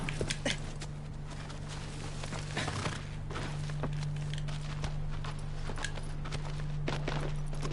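Horse hooves clip-clop at a steady walking to trotting pace in the video game Shadow of the Colossus, moderately close over a constant low game hum, with a few sharper thuds mixed in.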